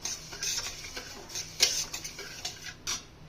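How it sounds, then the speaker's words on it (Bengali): Moong dal dry-frying in a pan gives a soft, steady sizzle. Crisp ticks and scrapes from stirring come at irregular intervals, close and fairly quiet, with no talking. "আমরা মুগ ডালটা ভেজে নিচ্ছি।"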